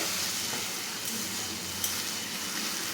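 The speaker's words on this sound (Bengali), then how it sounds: "এই মশলা ধোয়া জলটাও আমি দিয়ে দেবো এই জলটা ফুটে একদম মরে আসবে" A pan of paneer curry with spice-washing water on the heat gives a steady, broad hissing sizzle throughout, close and constant, with a faint clink or two.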